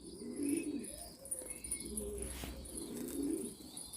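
Pigeons in a loft give soft, repeated throaty coos, close and steady in overlapping phrases, with light chirps and a faint wing flutter.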